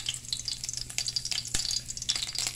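Brown anole lizards fry in a pan, a close, steady crackling sizzle with sharp spitting pops over a low constant hum.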